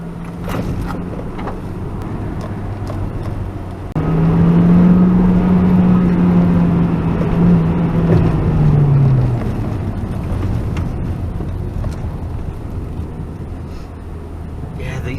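A 2016 Honda Civic Type R driving on a bumpy road, with steady interior road and engine rumble that swells as the car accelerates midway before easing back, heard from inside the cabin.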